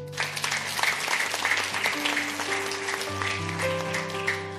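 Church congregation applauding together: a dense, steady wash of clapping that lasts throughout, with sustained keyboard or organ tones playing beneath it.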